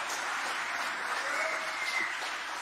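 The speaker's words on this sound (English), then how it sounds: "do you guys want to just give them a little round of applause to say thank you" A church congregation applauding the pastor and choir at a Christmas Eve candlelight service, a soft, even rain of clapping from a large room, steady and somewhat distant.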